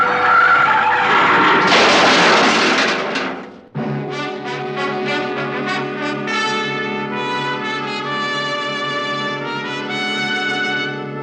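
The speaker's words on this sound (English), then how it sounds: "I took my foot off the accelerator and then jammed down on the brakes as hard as I could." A car brakes hard with a loud, broad tire skid lasting a few seconds, staged as a radio drama effect, then cuts sharply to a sustained tonal music sting that fills the rest.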